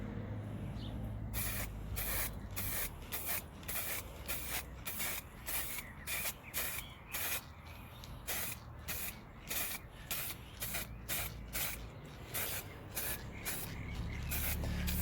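Spray gun laying a first coat of paint on Jawa Babetta 210 moped restoration parts: a rapid series of short, close hissing bursts in a steady rhythm over a low background hum.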